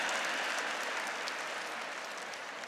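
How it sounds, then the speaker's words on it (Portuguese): A church congregation at a religious gathering breaks into brief, faint applause, a soft continuous patter of many hands heard from a distance with no voices over it. "Aplauda o seu irmão aí do seu lado, é gente boa"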